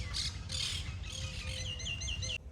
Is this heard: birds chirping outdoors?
yes